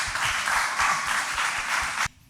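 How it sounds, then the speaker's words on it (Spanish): An audience at a church-themed talk gives brief, dense applause that holds steady for about two seconds and then cuts off abruptly. "Yo creo que eso se merece un aplauso."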